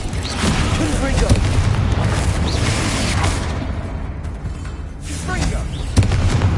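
Confringo explosive spell blasts in Hogwarts Legacy, a sustained loud booming roar with whooshing bursts and a sharp hit near the end, while a voice is faintly present beneath the din.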